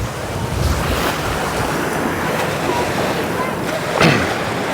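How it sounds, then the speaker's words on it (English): Waves on Pattaya Beach, Thailand, a continuous loud wash of surf mixed with gusty wind noise on the microphone, one swell rising near the end. "look how big this beach is and how nice it is"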